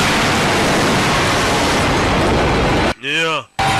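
A bomb blast in a dubbed action movie, a loud, sustained roar of noise broken by a short stretch of voice near the end.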